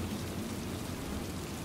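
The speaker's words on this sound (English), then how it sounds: "That ain't just regular rain" Heavy rain in a video game, a dense, steady wash of falling water with low rumbling underneath, fairly quiet and continuous with no voices.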